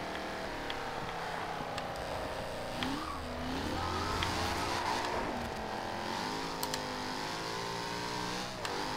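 A 2015 Jaguar F-Type R Coupe in the Forza Horizon 2 racing game revs hard under heavy throttle, its engine note climbing and holding loud and steady throughout with rising and falling pitch sweeps.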